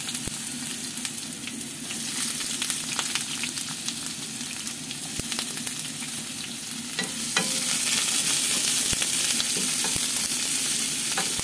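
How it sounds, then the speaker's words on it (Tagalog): Chopped garlic and onion sauté in a pan as the first step of a ground-meat dish, hissing and crackling steadily up close with scattered stirring clicks, growing louder near the end, with no voices. "Gigisa muna tayo ng bawang at sibuyas."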